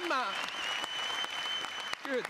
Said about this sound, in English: Keep clapping, we're not done.